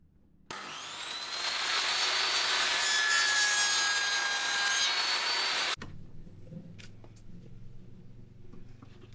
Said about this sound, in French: Je peux couper une bande de ça plus large du coup.